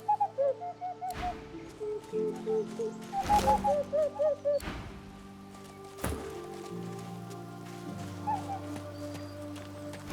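Owls in an enclosure in Divinity: Original Sin 2 give bursts of soft warbling coos, separated by heavy thuds and layered low ambient tones, fairly quiet overall.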